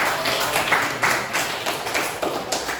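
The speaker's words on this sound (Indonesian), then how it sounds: "Beri tepuk tangan buat." A small group claps for a student's answer during a school coaching session, a brief, moderately loud patter of hands with uneven bursts and no talking over it.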